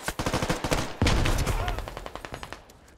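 Rapid automatic AK rifle fire in the video game Squad, close and loud in dense bursts, with a heavier burst partway through before it thins into spaced single shots.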